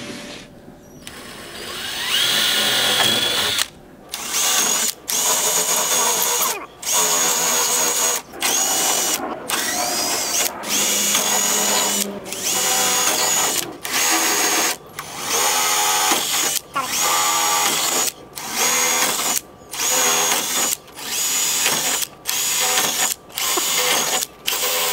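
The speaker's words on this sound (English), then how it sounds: "We have got my buffing wheel on my bench grinder" A buffing wheel on a bench grinder spins up again and again, a loud close motor whine in about a dozen short bursts separated by brief cut-offs, steady and mechanical throughout.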